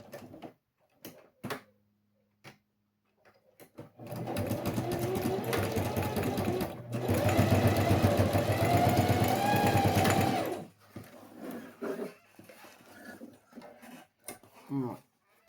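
A sewing machine runs in one sustained burst of rapid stitching on fabric for a pencil case, framed by brief handling clicks, a short pause mid-run and a few quiet words before and after.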